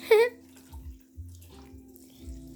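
Chicken stock pours steadily into a pot of cooking rice, with low gurgling bubbles and a soft hiss, and a brief high squeal at the start.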